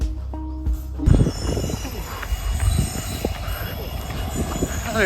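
A train pulls into a stony railway station in North Bengal, its wheels squealing in sustained metallic tones over rumbling carriages; it follows a brief beeping tone at the start and stays loud and close throughout.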